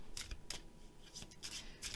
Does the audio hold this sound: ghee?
no